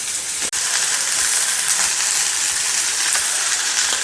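Soybean chunks and potato sauté with sauce in a pan, giving a continuous bright sizzle with a faint clink near the start, close and loud, with no voices.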